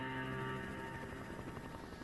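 Rescue helicopters arriving at an air crash site give off a steady, droning rotor and engine rumble that stays constant throughout, fairly faint, with no speech.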